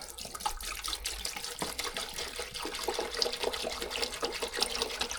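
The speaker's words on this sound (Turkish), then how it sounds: "Evet su akmaya başladı aşağıya." Purified water pours steadily into the reservoir of a homemade egg incubator, a continuous close splashing trickle like a tap filling a container, running without pause and with no talk.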